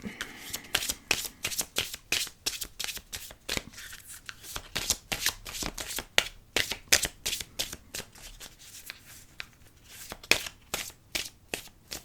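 A deck of cards is shuffled close up in a rapid run of crisp riffling bursts with short pauses between them, with no talk over it.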